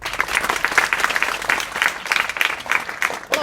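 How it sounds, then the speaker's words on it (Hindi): Students in a school hall at an inter college in Azamgarh break into loud, sustained applause, many hands clapping in a dense, uneven patter that swells and dips over several seconds. "ताली बजाओ तो मैं बताऊंगा।"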